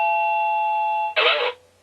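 An OxyLED D01 wireless doorbell rings loud and close: a steady two-tone electronic chime holds for about a second, then a brighter, louder burst of tones cuts it off and fades quickly, with no talking.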